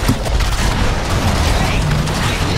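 Mortar fire from the monster Mink in the Evolve video game rumbles out as a dense, loud barrage of booming blasts and rattling bursts that carries on without a break.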